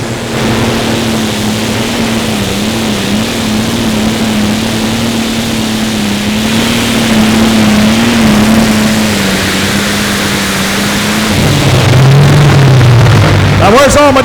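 A Light Super Stock pulling tractor roars steadily at a Friday night pull in Wisner, Nebraska, as a sustained loud engine drone, then surges higher near the end.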